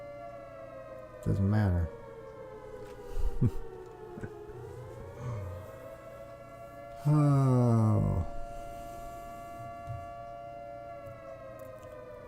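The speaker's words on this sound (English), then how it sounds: "Those sirens, get used to them" A wailing siren drones on with rising and falling pitch, louder in two blaring bursts; a voice says a few words underneath.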